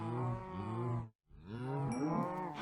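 Cows mooing in the Minecraft video game: two long, loud, close moos with a brief silent gap between them.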